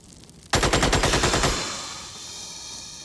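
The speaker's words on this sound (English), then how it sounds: "let's fire a nice barrage into that direction" Rapid barrage of automatic gunfire in the Xenonauts strategy game, a dense burst of loud close shots for about a second, then a decaying ringing tail.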